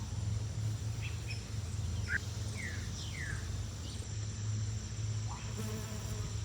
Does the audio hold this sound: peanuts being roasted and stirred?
no